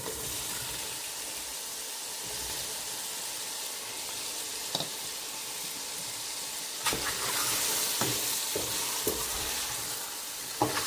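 Onions sauté in a pan for vegan ramen, giving a steady, moderate sizzle with intermittent scrapes and clatters from stirring, louder bursts toward the end.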